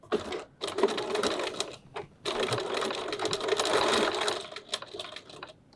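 A sewing machine top stitches near a folded edge beside zipper teeth in steady bursts, a short run, a pause, then a longer continuous whir of needle chatter, close and fairly loud.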